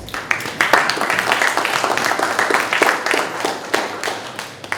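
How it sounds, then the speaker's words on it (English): Audience at a legislative caucus roundtable on public safety clapping for themselves, a moderately loud round of hand claps with distinct individual claps audible, continuing throughout at close range. "Give yourselves a round of applause"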